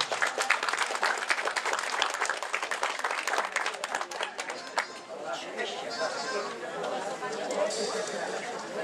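An audience applauds a klezmer band act at an outdoor local-products festival, a dense steady clapping that runs throughout, with chatter and voices mixed in.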